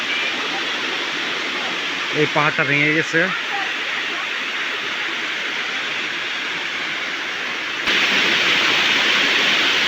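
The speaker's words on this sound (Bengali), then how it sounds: "এই উপর থেকে পানি নামতেছে এভাবে" A steady, roaring rush of water pouring down a flooded waterfall near Cox's Bazar, close and loud, with a voice speaking briefly over it partway through.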